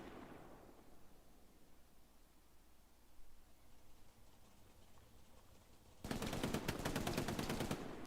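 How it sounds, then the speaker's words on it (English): An MG42 machine gun in the World War II shooter Hell Let Loose fires a sustained rapid burst of about two seconds. A long stretch of quiet battlefield ambience comes first, and the burst ends abruptly. "Laying down hate with that MG42"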